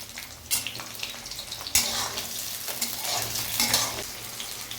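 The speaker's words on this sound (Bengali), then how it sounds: "এর মধ্যে 2টো শুকনো লঙ্কা, তেজপাতা, জিরে ফোড়ন, পেঁয়াজটা ভেজে নেব।" Onion, two dried chillies, bay leaf and cumin seeds frying in hot mustard oil, a continuous close sizzle broken by sharp crackling spurts as the pan is stirred.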